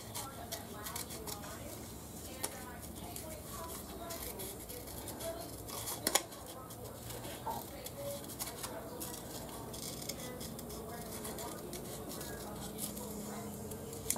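Scissors snipping paper while trimming a stamped piece for a handmade easel card, a run of small close crisp cuts through the whole stretch over a low background hum, with a sharper snap near the middle.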